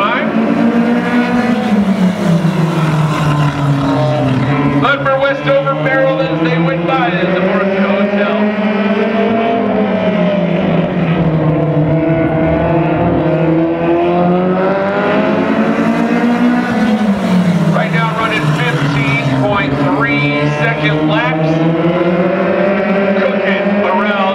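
Midget race cars roar past on a speedway at night, a loud sustained engine drone whose pitch rises and falls as the pack sweeps by in waves, with a second surge of passing cars about midway through.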